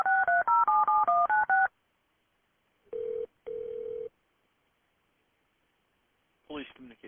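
Rapid burst of telephone keypad dialing tones while a 911 call is transferred to police, followed by two steady ringback tones and a brief voice answering at the end.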